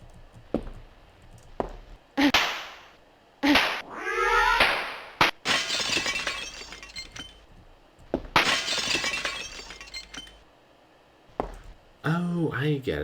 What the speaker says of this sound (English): When he hits me with his tail, he smashes the mirrors.